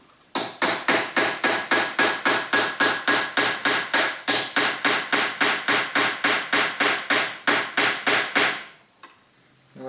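A hammer taps a punch to drive a pin through an iron head, a regular run of about thirty sharp, close metallic strikes at a steady brisk pace, each ringing briefly, then stopping before the end.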